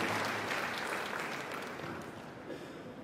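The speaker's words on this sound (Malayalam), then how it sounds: "നല്ലൊരു കൈയടി അദ്ദേഹത്തിന് നൽകാം" An audience applauds at a family gathering and silver jubilee celebration, with a dense burst of clapping that gradually thins and fades over a few seconds.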